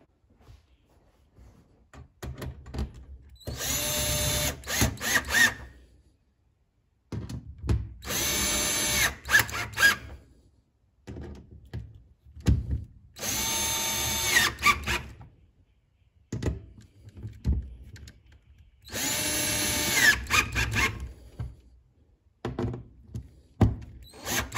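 A power drill tightens bolts on a KINGS TITAN twin drawer system with fridge slide in a Toyota, sounding in four loud, close bursts of whirring spaced by pauses, with clunks and handling noises between.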